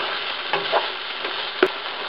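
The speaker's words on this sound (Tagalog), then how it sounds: "gigisa na natin yung ating bawang" Garlic and onion sizzle in a hot pan with a steady frying hiss, broken by a few soft stirring scrapes and one sharper clink of a utensil.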